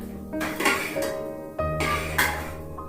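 Metal scraping and clinking as peas pulao is stirred in a cooking pot, a few stirring strokes with a utensil, close and fairly loud with short pauses between.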